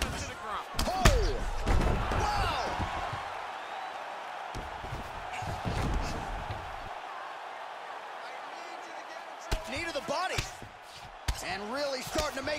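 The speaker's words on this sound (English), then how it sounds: "used the power of his legs to lift him and slam him to the ground" Body slam takedown in UFC 4 video game: a heavy thud of a fighter driven into the mat near the start, followed by further impacts, under steady commentary and crowd murmur.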